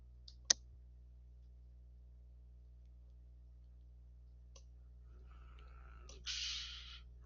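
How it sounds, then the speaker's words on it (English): Computer keyboard and mouse clicks while selecting cells in an Excel worksheet: a sharp isolated click, a softer one later, then a brief flurry of faint clicks near the end in a quiet room. "I'm going to hold down my control key on my keyboard."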